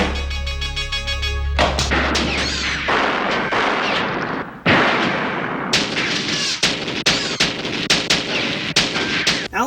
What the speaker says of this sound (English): after shooting at the tanks for what feels like days